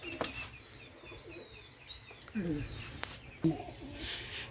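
Pakistani Teddy pigeons in a loft, with faint soft coos and a few brief flutters over quiet background, plus some low talk nearby.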